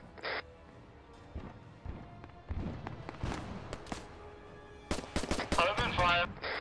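Gunfire in the military shooter Arma 3: scattered single shots build into dense bursts of automatic fire near the end, sharp cracks over a quiet background, with voices heard between volleys.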